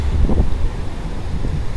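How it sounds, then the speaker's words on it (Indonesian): Steady low wind buffeting the microphone on overcast Pangandaran beach, West Java, a continuous rumbling roar with slight gusts and no talking. "Ternyata ini sekarang cuacanya tuh lagi mendung, berangin gitu"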